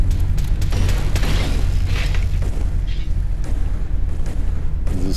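Sustained loud booming and bursts of gunfire from sentry turrets and explosions in the video game Fallout 4, a dense, continuous barrage with heavy low rumble throughout and no voices.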